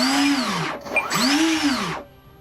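An RC model's electric motor spins up twice on the throttle, each burst rising then falling in pitch with a clear whine, then stopping abruptly as if braked; close and loud.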